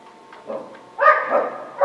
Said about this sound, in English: Sorry, they're out there barking.